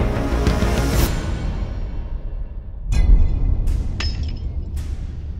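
Metal chains clink and rattle in a bright burst, then fall quiet before two more sharp jangles follow, close and loud with no voices.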